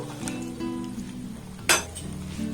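Fried carrot malpua pieces lifted out of hot oil and dropped into sugar syrup, with a low steady sizzle, a few light clinks of utensil on pan, and one sharp splashy clatter near the end.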